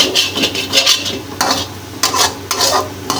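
Chicken and vegetables for samosa filling being stirred and sautéed in a pan, with a steady sizzle under repeated scraping strokes of a utensil, close and fairly loud, no talking.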